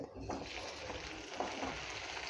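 Sliced okra hits hot oil in a kadhai and crackles in a soft, steady sizzle throughout, close and fairly quiet, with a faint voice briefly in the background.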